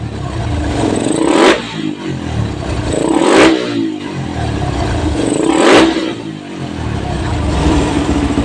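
A Suzuki Raider motorcycle fitted with a 28mm carburetor revs hard in three sharp bursts, each climbing and then dropping back to a rough idle, loud and close.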